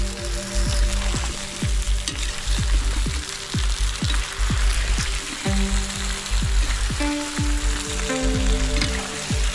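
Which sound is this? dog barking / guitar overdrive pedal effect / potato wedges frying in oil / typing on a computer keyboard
potato wedges frying in oil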